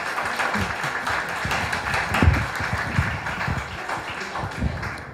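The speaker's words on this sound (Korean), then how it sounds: "박수를 여러분들이 더 뜨겁게 해주셔야 되지 않을까요?" Audience applause at a Korea–Kyrgyzstan exchange committee anniversary ceremony, a dense steady clapping wash of many hands with a few louder close claps, sustained throughout.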